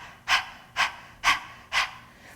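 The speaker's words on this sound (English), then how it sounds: "So it's kind of like if you want to practice panting like a dog." Sharp panting breaths forced through the nose in yoga breathing practice, four strong evenly spaced exhales about half a second apart, close and loud with nothing else heard.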